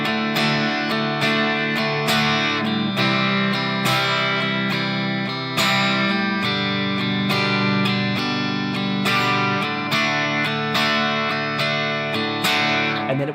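An acoustic guitar strums a 12-bar blues rhythm pattern, steady shuffling chords ending on the five chord for the final turnaround, played clearly and alone with no talking.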